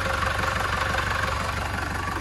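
A steady, rumbling Perkins diesel engine in a Chevrolet D20 pickup idles close by, its low rhythmic chug constant throughout with no voices.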